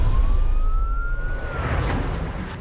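An ambulance siren wails in a single rising tone, heard from inside or close by over a low road rumble, with no talk.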